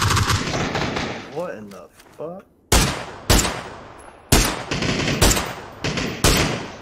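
Gunfire in PUBG rings out as repeated sharp bursts of shots, loud and close, with a short pause early on where a voice speaks briefly before the volleys resume.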